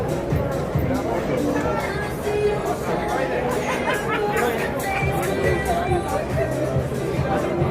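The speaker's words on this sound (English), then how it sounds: "Get an idea of what the crowd is like out here." Dense crowd chatter fills a busy indoor space at the MGM Grand in Las Vegas during boxing media workouts, a steady babble of many overlapping voices with no single speaker standing out.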